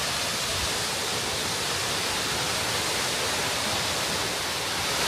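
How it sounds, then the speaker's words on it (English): Waterfall at the Birks of Aberfeldy in Scotland: a continuous, loud roar of rushing, splashing water, steady and broadband throughout with no voices. "What a beautiful waterfall."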